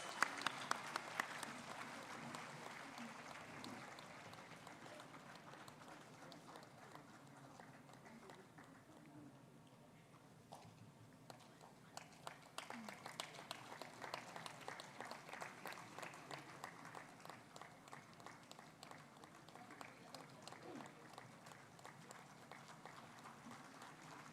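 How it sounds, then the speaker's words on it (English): An audience at a start-up conclave at IIT Bhubaneswar applauds steadily, a long run of quick overlapping claps that swells in the second half while a voice talks over it. "Big round of applause."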